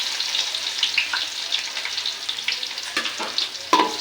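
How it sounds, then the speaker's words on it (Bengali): Chopped garlic and onion frying in a pan, a dense crackling sizzle close up with scattered light stirring clicks and one sharper knock near the end, no talking. "এবার আমি এটা সুন্দর করে লাল করে ভেজে নিব"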